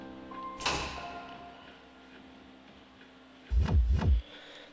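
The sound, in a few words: heavy metal door opening in a video game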